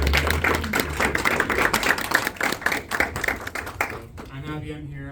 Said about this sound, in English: round of applause for everyone here